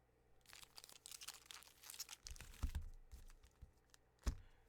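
Soft papery rustling and crisp flicking as a stack of Yu-Gi-Oh! trading cards is shuffled close by, with a couple of sharper taps, no talking.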